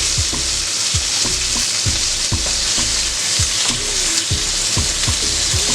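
Bacon fries loudly in butter in a pan while being basted, a dense continuous sizzle broken by a regular series of spoon scrapes and splashes.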